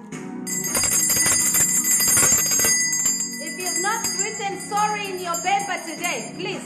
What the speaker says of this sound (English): the bell is going